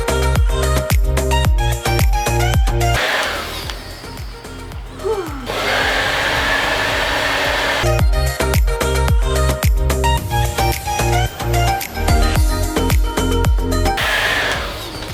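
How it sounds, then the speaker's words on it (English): A hair dryer blowing hair dry during a DIY keratin treatment: a steady whooshing airflow that runs under loud, beat-driven background music and is clearest in a short stretch where the music drops out. "So I'm gonna go in and just blow it dry."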